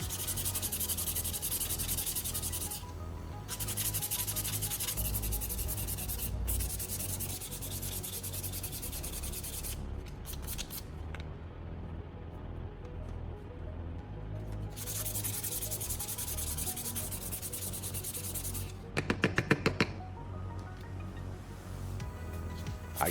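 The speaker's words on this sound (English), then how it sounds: "I then took the rough sandpaper and began sanding the PVC pieces." Rough, scratchy rubbing of rough sandpaper against PVC pipe pieces, repeated back-and-forth strokes with brief pauses, close and fairly quiet.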